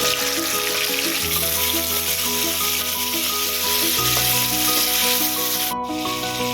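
Green chillies and tomatoes sauté in a pan for a vegetable pulao, giving a loud, steady frying hiss and rubbing sounds with a constant low hum underneath.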